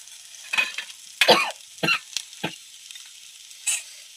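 Green chillies with turmeric sautéed in a pan, heard as a few separate bursts of crackling sizzle and scraping strokes against quiet gaps, close and fairly soft.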